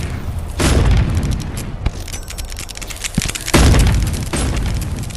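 Video game gunfire from a zombie shooter, heavy booming bursts that swell loud around the first second and again near three and a half seconds, with sharp pops between, all close and dense.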